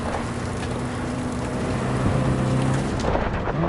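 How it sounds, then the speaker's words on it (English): A thunderstorm rumbles in Cyberpunk 2077, with continuous heavy rain noise and low thunder swelling loudly throughout. "That is one hell of a storm."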